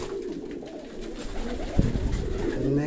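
Pigeons coo in low, throaty murmurs close by, with a brief flap or thump partway through amid steady background noise.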